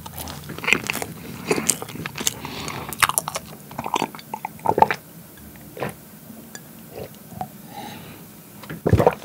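Melon cream bread from a convenience store is bitten and chewed close to the mic, with soft squishy bites and wet chewing sounds in an irregular rhythm, no talk during it.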